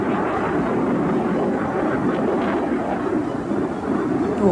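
A military fighter jet passes over a military parade in Indonesia with a loud, steady, broadband roar that holds at full strength for several seconds.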